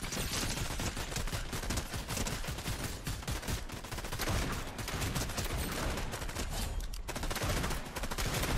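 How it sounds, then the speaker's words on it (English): Fortnite gunfire crackles in dense, continuous bursts of rapid shots and volleys, loud and close throughout with no pauses. "But who else is shooting them? Somebody else is shooting them."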